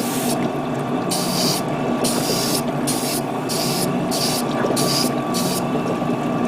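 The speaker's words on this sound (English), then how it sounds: "I'm going to spray paint this." Aerosol spray paint hissing in repeated bursts onto a 1/144 HG Gundam model kit, several short sprays with brief pauses between them, close and steady.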